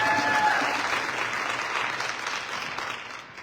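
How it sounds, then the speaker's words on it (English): Sustained audience applause at a content creators' masterclass in Lesotho, a dense wash of many hands clapping that stays loud and steady, then slowly fades toward the end. "A big round of applause to Tony Megabush."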